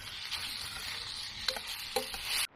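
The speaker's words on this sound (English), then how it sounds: "you have to stir with this one, otherwise you're going to end up with a lot of sticky burnt stuff on the bottom of your fry pan" Food sizzles in a fry pan over a campfire or camp stove while being stirred, a soft continuous frying hiss with a few scraping clicks of the utensil against the pan.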